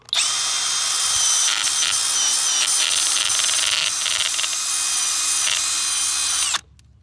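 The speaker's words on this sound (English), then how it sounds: "Then I take the absolute finest wire brush you can find, and I clamp it in a cordless drill." A cordless drill spins a fine wire brush against a stove damper plate from a HeatMasterSS G/Gs Series furnace, giving a steady loud whirring scrape with slight wavering for several seconds before stopping abruptly.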